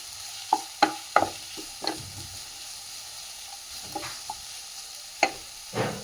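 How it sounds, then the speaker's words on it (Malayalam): A spoon stirs onion, crushed ginger, garlic and green chili frying in a pan for tomato rice: scattered sharp scrapes and taps over a faint, low sizzle. "ഒന്ന് ഇളക്കി കൊടുക്കാം."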